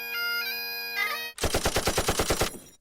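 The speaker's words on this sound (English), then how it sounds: "the bagpipe machine gun from The World Is Not Enough" Bond film bagpipe machine gun: a sustained droning, piped tone gives way to a rapid burst of about ten loud, evenly spaced shots lasting over a second.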